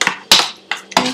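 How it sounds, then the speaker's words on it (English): Seekh kebab ingredients are mixed in a bowl with a utensil: four sharp clattering scrapes and knocks, close and loud, spaced unevenly with brief pauses between. "Mix it up real good so that"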